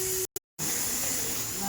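Steam hisses loudly and steadily from a pressure cooker whistle as mutton is braised in a home kitchen, broken by one brief gap before the hiss resumes.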